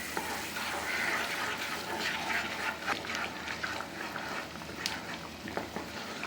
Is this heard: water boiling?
yes